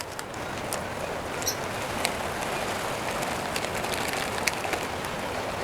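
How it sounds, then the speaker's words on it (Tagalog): Heavy rain pours steadily outdoors, a dense, even hiss of drops with occasional louder splatters, continuous and fairly close throughout, with no one speaking. "Grabe ulan."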